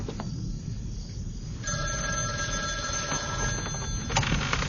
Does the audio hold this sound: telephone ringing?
yes